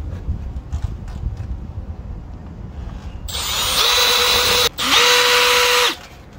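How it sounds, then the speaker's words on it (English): Outdoors, wind rumbles on the microphone before a power drill drives screws to mount a solar street light, with two loud whirring runs separated by a brief pause. "we're only gonna put two screws because this thing is light."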